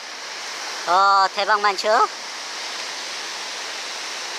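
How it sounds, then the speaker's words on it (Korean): Night sea waves wash steadily at Naksan harbor, a broad continuous rushing noise close by, with someone briefly speaking over it partway through. "아, 그나저나 파도가 좀 잦아들어야지 될 텐데"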